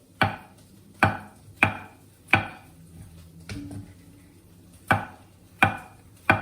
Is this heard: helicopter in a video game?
no